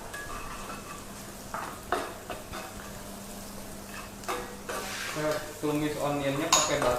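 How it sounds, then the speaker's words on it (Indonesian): Onion sautés in unsalted butter in a pan for beef stroganoff, a soft sizzle under spoon scrapes and clinks of cookware, with brief faint voices in the background. "Tumis onionnya pakai butter atau margarin, Chef?"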